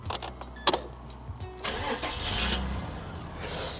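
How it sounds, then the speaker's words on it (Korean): A 1990s Kia Potentia car engine, Mazda-built, cranks and catches at about 1.6 seconds, then settles into a steady idle with a sharp engine tone. There is no talking. "한번 시동을 걸어보도록 하겠습니다"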